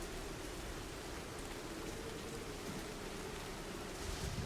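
Steady rain ambience with a broad hiss across the whole range, even and unbroken at a low overall level, with no talk over it. The story setting is a seaside balcony.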